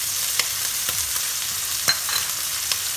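Szechuan beef stir-frying in a pan with stir-fry sauce, chili sauce, ginger and garlic, giving a steady close sizzle with light scrapes and stirring taps scattered through.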